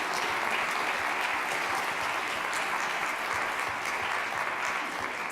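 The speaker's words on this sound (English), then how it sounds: "I think that deserves a huge round of applause" A large audience at a leadership event breaks into sustained applause, a dense and even roar of clapping that holds steady throughout the moment.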